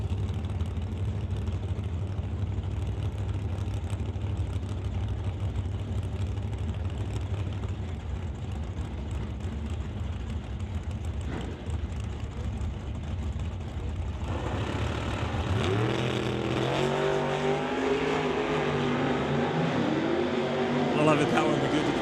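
Drag racing at a non-electronic series event, the Antol Towing shop truck against the F100 Old Yeller, engines idling low then revving and roaring louder in the second half, with a commentator talking over throughout.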